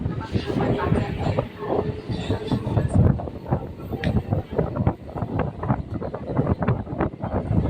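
A local train on the Bali–Bardhaman chord line pulling out of Nabagram station, with continuous rumbling and rhythmic clattering of wheels over rail joints, heard from on board with wind noise and people talking over it.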